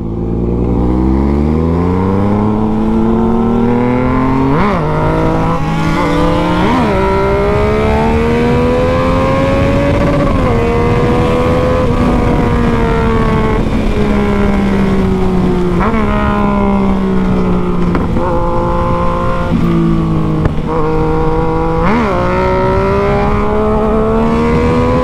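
A Honda Hornet and a Yamaha MT-09 motorcycle accelerating, their loud engines droning close by with pitch rising and falling through repeated gear changes and throttle surges, with wind rush underneath.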